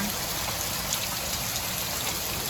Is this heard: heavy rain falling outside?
yes